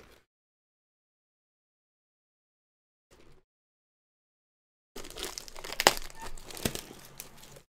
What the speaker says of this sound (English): Get the plastic off.